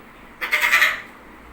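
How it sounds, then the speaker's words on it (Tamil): A single short, harsh goat bleat bursts out at moderate loudness, then fades into quiet. "ஆடு,"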